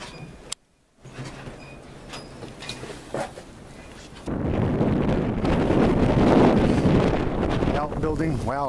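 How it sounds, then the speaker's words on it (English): Strong wind buffets the microphone around an old hillbilly house in Carroll County, Maryland, swelling into a loud, rumbling roar partway through with a few knocks and bangs. "Wow, it's really windy around here now."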